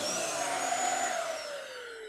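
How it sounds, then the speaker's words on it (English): A VEVOR high-power furniture and mattress vacuum cleaner, plugged into a 110-volt home outlet, runs with a loud, steady whine and airy roar that eases slightly toward the end. "This is going to be a pretty high-powered vacuum"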